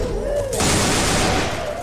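Bursts of AK rifle fire in Left 4 Dead 2, loud and close, a dense continuous volley filling the short clip, with a brief quieter lead-in before the firing swells.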